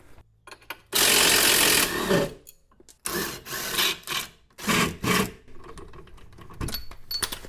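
A ratchet or impact tool works loose the lower shock bolt on a 2006-10 Dodge Charger R/T, loud close bursts of rapid buzzing and rasping separated by short pauses and faint clinks.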